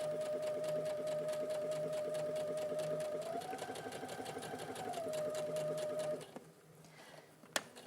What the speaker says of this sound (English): I'm always going to sew with my gathers on the top so I can see what's going on